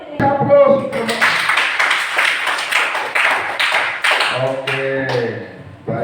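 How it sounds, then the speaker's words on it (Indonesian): A classroom of students claps together in quick, close applause lasting a few seconds, with voices talking just before and after. "aplaus."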